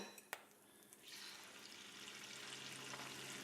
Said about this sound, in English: I'm gonna take my eggs that are 2 eggs with about a tablespoon of water whipped up into a hot pan